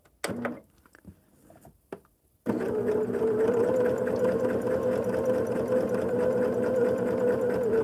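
A sewing machine stitches hexie quilt pieces, running as a steady, continuous close whir after a few brief handling clicks and taps at the start.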